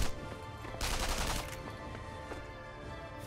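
Gunfire in the co-op video game Sniper Elite V2: a loud burst of rapid shots flares up for about a second amid steady ambient game noise, followed by a few faint scattered pops.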